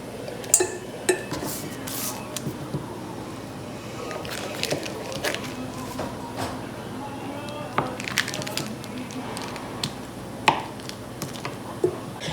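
A knife cuts butter into little squares for chocolate chip cookies, giving soft, scattered taps and squishy knocks on a board up close, with faint talk in the background.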